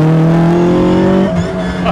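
Toyota engine, likely a vintage Sports 800 or AE86 sports car, sounding loud and close with a strong revving hum that holds steady, then dips and rises again.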